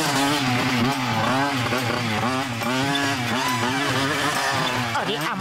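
A cartoon vehicle engine, a special custom-built model in an animated comedy chase, revs loudly and climbs in pitch in wavering surges, continuous and close throughout with dense music and effects layered over it.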